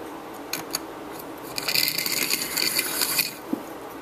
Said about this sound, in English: you're actually grinding this wheel backwards here